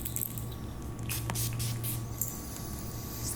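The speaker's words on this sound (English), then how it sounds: "A little spray." A spray bottle spritzes to clear the space during an ASMR tarot reading, giving soft hissing bursts of mist over a steady low hum, close and gentle with no talk.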